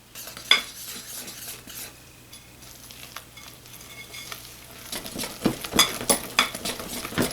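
Orange cake batter being stirred quickly after flour and baking powder go in, with scraping and tapping of a utensil against a bowl, steady at first and growing busier and louder toward the end, close by with no talk.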